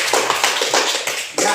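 Pupils in a classroom give a short round of hand-clapping, a few quick, fairly soft bursts of claps spread across a second or two, with no talking.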